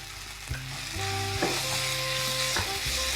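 Masala with coriander sizzles and crackles in a pan as it is stir-fried for a crab curry, with a steady close frying hiss broken by scraping stirs and clanks of the spoon.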